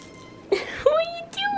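Tiny foster kittens, one a former bottle baby, give three short, high, wavering meows close by, with brief pauses between them.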